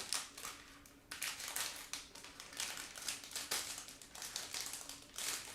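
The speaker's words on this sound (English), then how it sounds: "let's use scissors in order to open them." Sharp snipping and crinkling as scissors cut open plastic bags of model kit parts, in quick irregular bursts, close up, with brief pauses between cuts and no talking.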